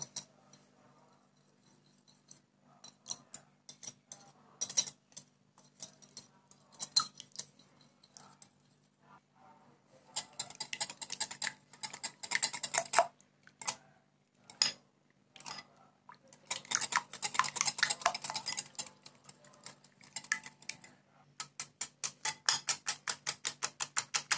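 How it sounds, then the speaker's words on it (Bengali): Three eggs beaten in a bowl for cake batter, rapid rhythmic whisk clicks against the bowl in bursts, sparse at first and then faster and denser, close and fairly quiet. "এই ডিম তিনটি আমার এখন বিট করে নিতে হবে"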